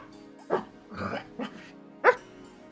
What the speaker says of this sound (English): Does it sound like a big dog?